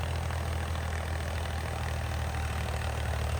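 A steady, low diesel engine of a 47-horsepower Farmtrac tractor drones on without a break, idling loudly and evenly throughout.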